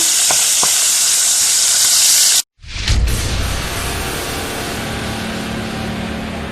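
Tomato sauce with chili for a purslane dish from Kinshasa hitting a hot pot, a loud hiss that cuts out briefly, then settles into a steady, rolling sizzle and bubbling.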